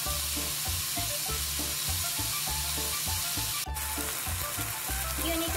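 Beef seasoned with garlic salt and black pepper sizzles steadily in a hot pan for a Mexican torta, a dense continuous crackle with a pulsing low rumble and one brief sharp clink partway through.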